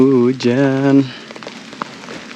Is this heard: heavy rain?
yes